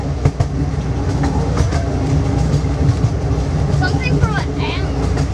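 Passenger train riding on rails, a loud steady rumble with rhythmic clickety-clack and squealing wheel tones, heard from inside the car while people talk over it.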